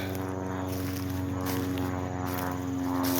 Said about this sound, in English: So, awful lot of airplanes going along today.